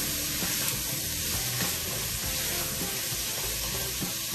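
Onions and garlic fry steadily in oil in a pan for braised lamb shanks, a continuous close, moderately loud sizzle with occasional stirring scrapes underneath and no talking.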